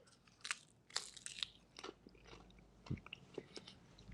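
Close, crisp crunches and bites come in irregular bursts as someone chews a fresh homemade tortilla, with quiet gaps between the chews.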